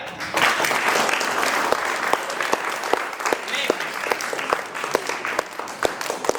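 A classroom audience at a board-level English debate for class 9 and 10 students claps in sustained applause, dense and loud throughout with sharp individual claps standing out.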